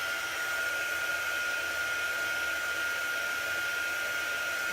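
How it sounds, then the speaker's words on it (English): A hair dryer blows steadily up close, drying chalk paste on a wooden sign, a loud continuous whirring rush with an even tone throughout. "I just kind of sped up that process by using my hairdryer"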